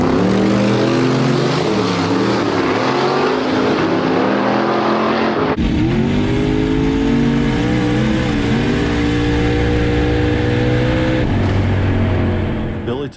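A drag race car launches down the strip at the Pacemakers event with a loud, close engine roar. The revs climb in rising harmonic sweeps, and the sound jumps sharply as the car pulls away.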